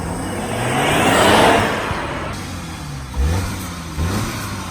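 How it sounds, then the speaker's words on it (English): A cold Mk2 Ford Focus ST with a Milltek exhaust revs loudly up close, its engine note swelling and then dropping back, followed by a couple of short blips over the idle. "Give us a rev."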